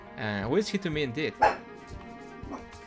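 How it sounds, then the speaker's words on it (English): Household dogs bark back at a neighbor's dog, with short yipping barks scattered between and under a close voice speaking over them. "Because the neighbor's dog is barking, so they bark back."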